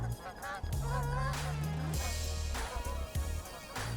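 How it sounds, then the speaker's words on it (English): Canada geese on a lake honk in a short burst of several calls, moderately close and fairly faint over quiet surroundings. "Those pesky Canadian geese."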